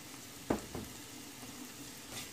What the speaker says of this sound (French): Je fais revenir environ 1 à 2 minutes.